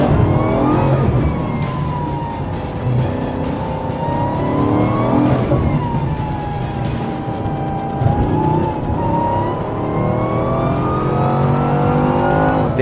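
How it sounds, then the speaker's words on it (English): Car at full throttle on a track, engine note climbing through the gears in long rising sweeps with brief dips at the shifts, loud and continuous from inside the car. "I needed to get a perfect corner exit and pin the throttle as early as I could to have any chance of beating Andy's top speed"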